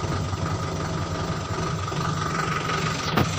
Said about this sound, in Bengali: আমার টিপারটা আবার নিচে নামছে।